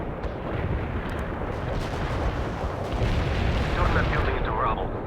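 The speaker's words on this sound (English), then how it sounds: "Commencing the barrage." Artillery barrage pounding away in the World in Conflict video game, a thick, continuous rumble of overlapping blasts that swells slightly toward the end.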